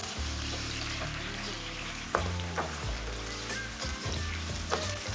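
Chopped tomato and green chillies fry in a pan for a radish and spinach sabzi, making a dense, steady sizzle close up, broken by several sharp clacks and scrapes as a spoon mixes them.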